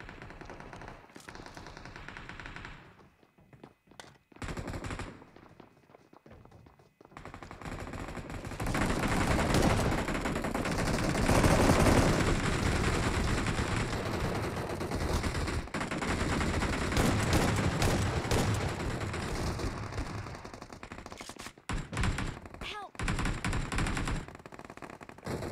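Shotgun blasts and gunfire ring out in the mobile battle royale game BGMI, with scattered shots at first, then dense, sustained bursts of rapid fire that drop out briefly between volleys.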